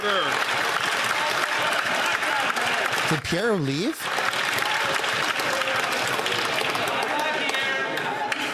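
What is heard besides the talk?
parliament members clapping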